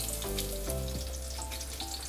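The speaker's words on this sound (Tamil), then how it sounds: "இது சின்ன சின்னதாக கட்டிங் பண்ண பூண்டு போடுறேன்." Finely chopped garlic, added after ginger, fries in olive oil for homemade veg noodles, giving a soft, steady sizzle with a low pan hum, fairly quiet and close.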